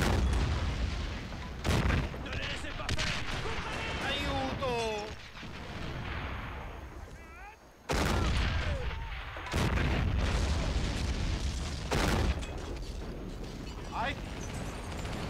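Gunfire and heavy explosions from the WWII strategy game Men of War: Assault Squad: several loud, sharp booms spread across the stretch, with rattling battle noise in between and players talking over the action.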